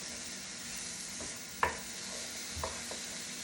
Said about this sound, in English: Stirring it up, stirring it up.